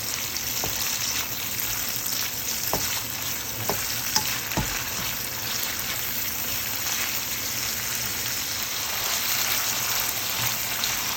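Mixed vegetables and chicken stir-frying vigorously in a wok, a constant loud sizzle with occasional scrapes and knocks of a utensil stirring.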